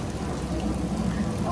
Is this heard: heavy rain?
yes